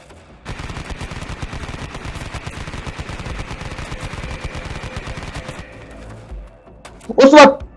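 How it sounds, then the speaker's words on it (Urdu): A rapid burst of gunfire sound effect fires at an administration block during an attack, with dense repeated shots for about five seconds. It fades out and is followed by a brief loud vocal sound at the end. "ایک دم سے فائرنگ شروع ہو جاتی ہے سیدھی ایڈمن بلاک"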